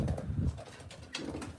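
Racing pigeons coo softly in a loft in low, rolling murmurs that overlap one another, close by and fairly quiet, with no voices.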